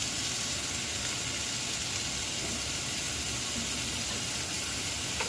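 Vegetables sizzle steadily in canola oil in a pan, with a soft, even hiss that holds at low volume throughout.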